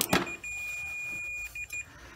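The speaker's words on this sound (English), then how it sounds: "So we're going to put the meter on continuity check." A steady high electronic beep from a multimeter on continuity check holds for over a second, then stops, followed by a few short chirps, with faint handling noise underneath.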